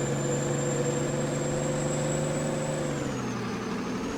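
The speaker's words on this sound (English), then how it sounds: "I do like the engine sound of this one" Tractor engine in Farming Simulator 19 runs steadily at a close, constant idle-like drone, pitch dipping slightly near the end, with no talk over it.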